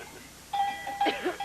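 A small bell rings twice in quick succession at a family birthday gathering. The bright, clear tones stand alone in a quiet room.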